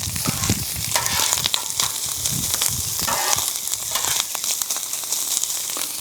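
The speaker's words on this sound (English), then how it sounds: "All right, let's get some corned beef down. Want to get that crispened up a little bit." Corned beef crisping on a hot griddle, a loud crackling sizzle with spattering pops and faint scraping, steady for several seconds.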